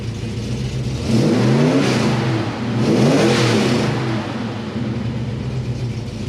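A 1970 Chevelle V8 fitted with a Holley Double Pumper carburetor idles loudly nearby, then is revved twice in quick succession, each blip rising and falling back to a lumpy idle.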